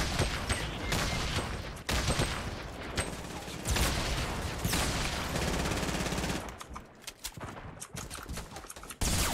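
Dense automatic gunfire in a Black Ops 4 or Fortnite match, with rapid overlapping bursts and shots that fire almost nonstop, loud and close, thinning into scattered sharp cracks near the end.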